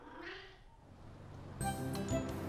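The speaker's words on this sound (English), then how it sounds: "Silly cat." A cartoon cat gives a short, soft meow at the start of a Christmas episode. A brighter tonal cartoon sound follows and carries through to the end.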